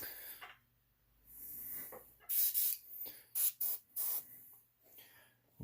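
A dirty airbrush spraying paint in short hissing bursts, several quick puffs near the end after a longer soft spray, close and fairly quiet with pauses between.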